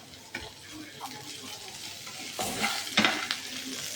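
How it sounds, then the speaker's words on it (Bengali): Chopped onions frying in oil in a pan, sizzling steadily while a utensil scrapes and stirs them in a few sharper strokes, close and moderately loud, with no talking. "পেঁয়াজটা আমার মোটামুটি ভাজা হয়ে এসেছে।"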